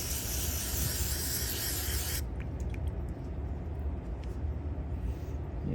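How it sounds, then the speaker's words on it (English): Carb cleaner sprayed onto a carburetor from a 1973 Kawasaki 175: a loud, broad hiss for about two seconds, then dropping to a lower rushing sound with faint scraping and dribbling noises. "Just spray this out a little bit here with some carb cleaner."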